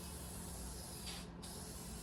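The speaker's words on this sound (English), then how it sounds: "Give it a little spray right here." Spray paint hisses steadily from an aerosol can onto the driver side of a car, a continuous close broadband spray lasting about two seconds with a brief dip partway through.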